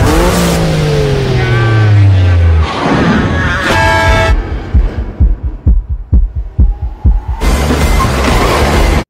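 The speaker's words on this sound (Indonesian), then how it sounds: "langsung tancap gas dan memperlihatkan keahliannya" A car engine revs and accelerates hard, loud and close, with a rising roar followed by a rapid series of throbbing exhaust pops before the engine surges again.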